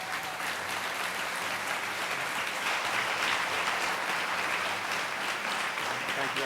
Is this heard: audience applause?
yes